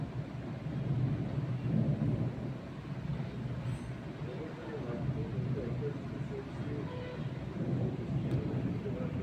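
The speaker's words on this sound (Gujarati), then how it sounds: "વરસાદ તો બંધ થઈ ગયો પણ વીજળીઓ ગાજવાનું ચાલુ છે" Deep rolling thunder rumbles in the distance after the rain has stopped, swelling and fading in long waves over a quiet background.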